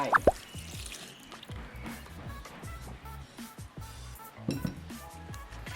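Banana cake batter with evaporated milk is stirred in a bowl, giving soft rhythmic clinks and wet taps of a utensil against the bowl, close and fairly quiet.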